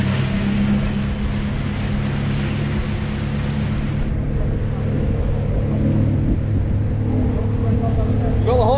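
A motorboat engine on a trip to Ilha Deserta in Portugal roars steadily and builds as the boat speeds up, with wind and water rush throughout and a voice speaking faintly over it.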